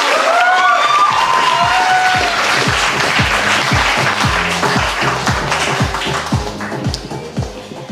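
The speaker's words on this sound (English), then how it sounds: "So please give a round of applause to the two of them." Applause and cheering fill a wedding reception hall for the newly married couple, loud and sustained with a few shouts, a steady rhythmic beat of music running underneath, and the clapping thinning slightly toward the end.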